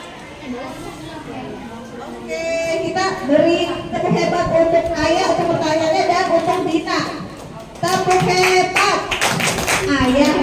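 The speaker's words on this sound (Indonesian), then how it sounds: "Tepuk hebat untuk Dina." A primary school class claps in rhythm while chanting together to praise a pupil. The claps are quick and close, come in bursts under many young voices, and turn sharper and denser near the end.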